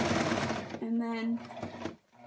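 A sewing machine back stitching through a printed Valentine's card, its motor whirring in a short steady burst of about half a second, close and clear, with someone talking just before and after.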